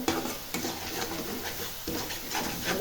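Biryani masala being stirred in a pot, with close scraping and rubbing strokes of a spoon against metal over a light sizzle, continuous with a few sharper knocks.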